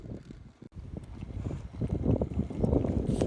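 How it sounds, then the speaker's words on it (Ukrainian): Strong wind in the Netherlands buffets the microphone in a low, roaring rumble that swells and grows louder toward the end, with a brief dropout early on. "Але вітер прям такий здуває."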